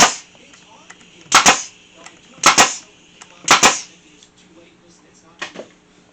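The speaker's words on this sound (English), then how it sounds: "Then what we'll do is we'll throw a staple in each one of these." Staple gun driving staples into wooden pieces of an internal cross wall art frame: three sharp double snaps close together, then a fainter double snap near the end, each one loud and crisp over a quiet room.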